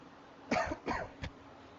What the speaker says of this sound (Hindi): आज खांसी ज्यादा आ रही है।